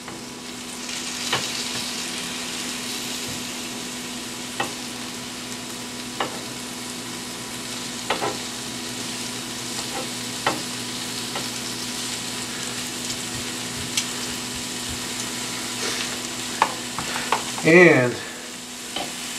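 Carrot spears sizzle steadily in a frying pan, with repeated light clicks of tongs turning them and a brief louder clatter near the end, over a faint hum.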